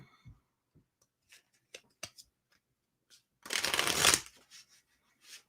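Tarot cards shuffled by hand in a quiet room: a few soft isolated taps and flicks, then one dense, loud riffling burst of about a second, followed by scattered light card taps.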